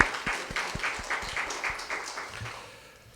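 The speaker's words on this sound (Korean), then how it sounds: "다시 한번 뜨겁게 큰 박수 보내드리면 좋겠습니다." A church congregation applauds at an elder and deacon ordination service, with steady mid-distance clapping from many hands that gradually fades toward the end.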